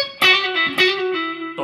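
An electric guitar with its tone knob fully open plays a short distorted phrase through effects pedals: bright, sustained notes with sharp picked attacks and ringing upper harmonics, loud and alone.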